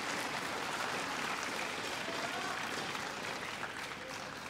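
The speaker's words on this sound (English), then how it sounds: "Crowd applauding excellent play in an exciting match." Spectators applauding at a women's doubles table tennis final between Japan and Singapore, a dense, steady wash of clapping from a large crowd that holds evenly throughout.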